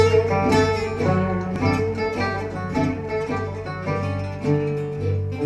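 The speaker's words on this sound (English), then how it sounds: "This is the sound of gypsy jazz" A Bahraini gypsy jazz band plays at full volume, a style fusing Arabic music with swing and funk, with rhythmic strummed chords and melodic lines running continuously and close up.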